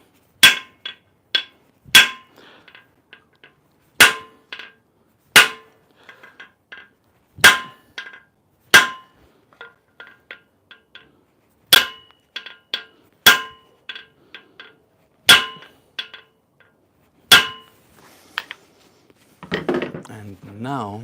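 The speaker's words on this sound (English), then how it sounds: "I'm gonna put the hammer like that and hit that hammer on the top of the screw" Sharp metallic clanks of a hammer struck against another hammer resting on a screw during an LS3 short block teardown, a dozen or so spaced, ringing blows close up with softer taps between and a brief clatter at the end.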